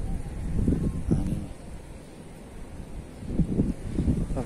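Gusty morning wind buffets the microphone at a shoreline fishing spot, rising and falling in low rumbling surges with quieter stretches between.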